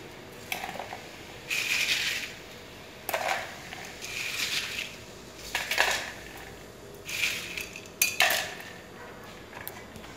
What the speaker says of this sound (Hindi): ice cube